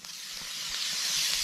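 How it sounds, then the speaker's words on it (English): Steak sizzling in a hot pan with butter, a steady bright hiss that swells slightly louder over its length, heard close with no voices. "pan's hot. You want to hear that sizzle."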